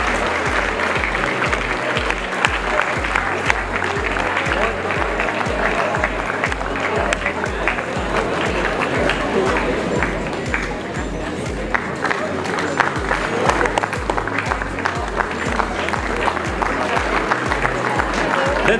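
Sustained audience applause for school award winners at a naval centennial celebration ceremony, steady dense clapping with some crowd noise and a rhythmic low thumping beneath, continuous throughout.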